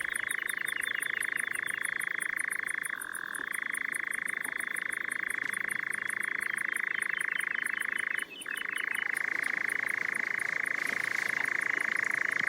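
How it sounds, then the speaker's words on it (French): A dense chorus of frogs trills continuously in the Baronnies provençales, joined by rapid insect-like chirping high above, a steady night ambience with no voices. "La plonge des grenouilles ajoute une dimension à la profondeur du soir."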